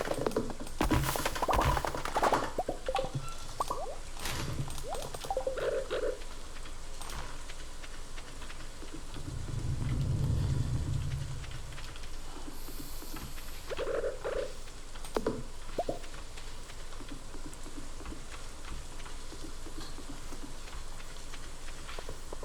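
Steady rain falls in the Stardew Valley video game, a constant soft hiss of drops running the whole length with a few louder patters and splashes scattered over it, no voices.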